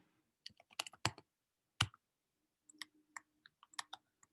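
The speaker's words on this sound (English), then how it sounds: "I'm just typing that in." Short bursts of keystrokes on a computer keyboard, some taps single and some in quick clusters, separated by quiet gaps; close and crisp, with no talking.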